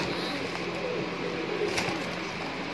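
Soft cooing of Allahabadi high-flier pigeons at a loft under steady background noise, low murmuring calls repeating faintly throughout.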